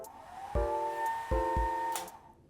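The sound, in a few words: hair dryer switched on in ferry cabin bathroom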